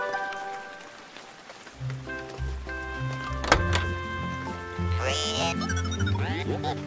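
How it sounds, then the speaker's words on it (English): Rain falls in a children's cartoon about vehicles and robots, a soft patter mixed with bright tonal music and a few thumps and whooshing effects. "The robots are hiding from the rain in their van."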